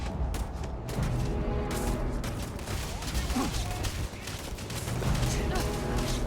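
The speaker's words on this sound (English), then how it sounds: "Everybody's shooting me." Enemies in the video game Starfield fire on the player in a dense, continuous barrage of gunshots, with loud rattling bursts over a busy combat soundscape and background game audio.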